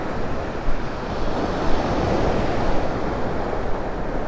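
Surf breaking steadily on Vanderbilt Beach under a southwest wind, a continuous near wash of waves with soft swells and some wind rumble, no voices.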